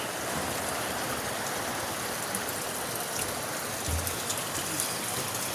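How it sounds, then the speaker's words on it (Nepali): Water runs steadily through a channel beneath a park walkway in Dharan, eastern Nepal, making a constant close rushing wash with no clear pauses. "यो मुनिबाट पानी कुदाउनु भएको छ उहाँले।"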